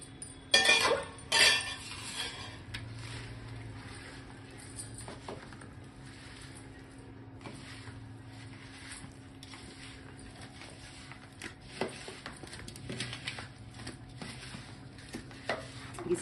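Mango pickle masala being mixed with oil for Guntur avakaya, soft clinking and scraping of a utensil against a bowl at a steady low level, with a couple of sharper clinks early on.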